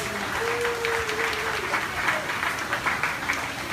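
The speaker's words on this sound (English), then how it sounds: "Let's give Alex a big round of applause." A theme-park pre-show crowd at a studio backlot tour applauds a volunteer named Alex, a full, even round of clapping with a faint voice briefly audible underneath.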